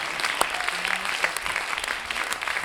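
Audience applause at a slam poetry tournament night, dense steady clapping from a sizable crowd filling the room, with scattered sharper claps standing out over the wash.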